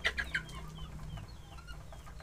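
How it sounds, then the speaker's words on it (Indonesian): Backyard chickens cluck in the afternoon, close and moderately clear, with a few sharp clucks at first and softer scattered calls over low steady background noise. "sembari menikmati bagaimana ayam-ayam saya menghabiskan waktu di sore hari ya."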